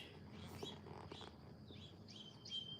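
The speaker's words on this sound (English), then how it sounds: "Birds are chirping and flying" Birds chirp softly in the background, a scattering of faint high tweets and calls over a quiet, low ambient hum.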